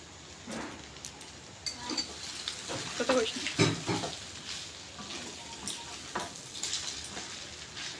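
Chowmein noodles with vegetables, salt and sauce frying in a pan, a soft continuous sizzle broken by intermittent stirring scrapes and clatters, close but fairly quiet.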